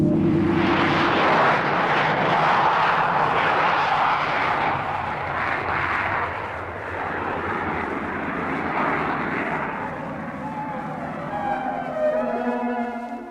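A Mirage F1 jet aircraft roars loudly and steadily throughout, a broad, continuous engine rush with a slight swell and a rising whine toward the end, with no voices.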